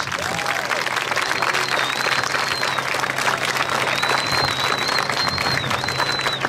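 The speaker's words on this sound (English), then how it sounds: "Let's give a big round of applause for your role players" An audience applauds role players after a disaster drill at Clinton Central, with dense, steady clapping throughout and faint whistle-like tones above the crowd.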